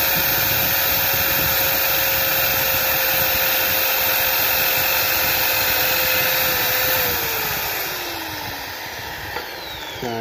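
An INGCO 680W impact drill boring into a wooden sample: a steady, loud motor whine holding one pitch, then winding down as the trigger is released near the end.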